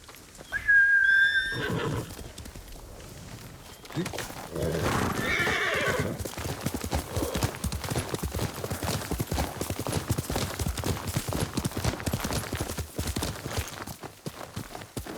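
A horse in the video game Ghost of Tsushima gives a loud, high whinny, then its hooves clip-clop steadily in a walking rhythm for several seconds, close by and without talk.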